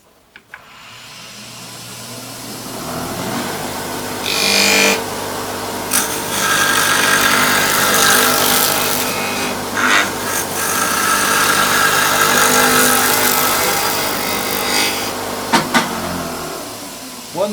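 Woodturning lathe spinning as a 3/4 inch skew chisel cuts wood for a snowman ornament: a steady loud motor hum overlaid with hissing cutting noise that swells and eases, plus a few sharp ticks near the end.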